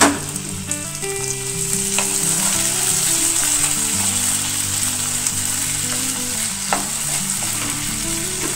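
Chopped tomatoes sizzle loudly as they fry with browned onions in a pan for a restaurant-style paneer butter masala, a steady close crackle with occasional stirring clinks and no talking.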